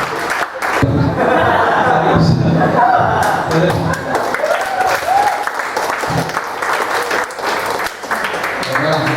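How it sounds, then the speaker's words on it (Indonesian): At a stand-up comedy show, the audience breaks into loud, sustained applause. Many sharp claps build into a thick roar, with scattered laughter and chatter underneath, while a voice talks briefly over the noise. "Tepuk tangan dulu dong, Stand Up Kaskus."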